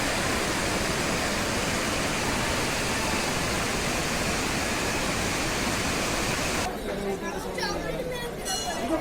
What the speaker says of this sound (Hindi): बनेर नदी जो है उसका जल यहाँ कलकल ध्वनि करते हुए बह रहा है।